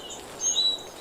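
Brief looped bird chirps from the background soundtrack of the Heal video game, a couple of faint high tweets over a quiet bed, no voices.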